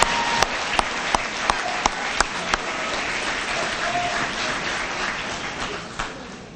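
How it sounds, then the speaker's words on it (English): Applause from a school promotion ceremony audience: steady dense clapping from a large crowd, with a few sharper individual claps standing out near the start, holding fairly even before easing slightly at the end. "Let's give them a round of applause, too."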